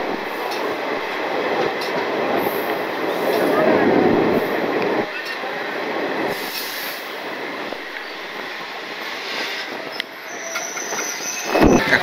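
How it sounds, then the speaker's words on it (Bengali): The Kaviguru Express pulls away from Ahmedpur Junction, with wheels rumbling and squealing on the rails and the rolling noise rising and falling as carriages clatter along, heard from inside the train. "কাছাকাছি প্রায় 50 মিনিট মতন থাকার পরে আমাদের ট্রেন ফাইনালি ছাড়লো এই"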